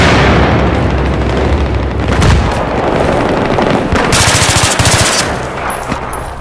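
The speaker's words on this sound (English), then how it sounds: "it just feels so good to shoot people again on this game" Loud, continuous automatic machine gun fire from the video game Battlefield 3, rapid rattling bursts with booming impacts and distant explosions layered in, no talking.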